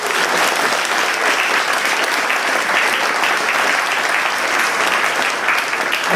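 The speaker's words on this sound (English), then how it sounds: "Let's give them all a big round of applause." Audience at a New Year's Eve comedy hypnotist show applauding the volunteers, thick continuous clapping from a large crowd, loud and unbroken throughout.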